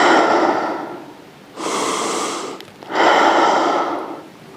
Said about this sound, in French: vous respirez